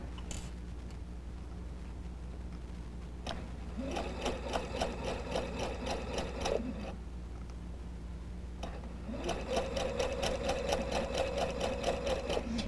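A sewing machine stitches a seam on a double wedding ring quilt in two steady runs of rapid mechanical clatter, close and even, separated by a short pause.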